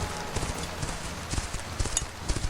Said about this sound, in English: A big black horse.